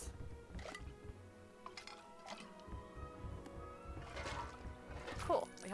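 Dishes clink and rattle in the Burrow kitchen in the Lego Harry Potter: Years 1-4 video game, scattered light clinks with some sloshing water, and a voice talks over them.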